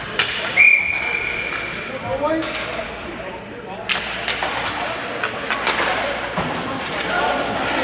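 A referee's whistle shrills once, short and sharp, to stop play for offside during a youth U12 ice hockey game, followed by thuds and clatter of sticks and skates in the rink.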